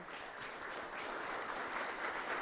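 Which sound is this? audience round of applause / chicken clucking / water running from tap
audience round of applause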